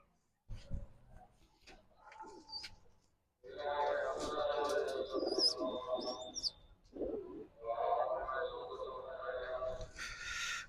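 Pigeons coo and chirp close by while someone talks over them, with a short quiet pause partway through.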